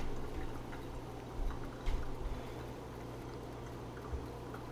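Inverted Aeropress coffee maker pressed down in a slow plunge, giving a steady low hiss and liquid trickle with a few soft bumps and gurgles, close and fairly quiet throughout.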